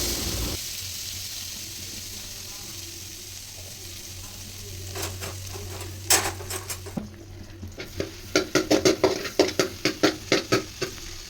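Butter sizzles in a pan ahead of frying paneer, a low steady hiss that runs most of the way through. Toward the end it gives way to a rhythmic series of clinks and scrapes from stirring, with no talking.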